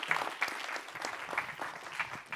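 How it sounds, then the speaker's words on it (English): Applause from a conference audience in a theater after a planetary science talk, a moderately quiet, steady patter of many hands clapping with scattered sharper claps, no voices over it. "And one more round of applause."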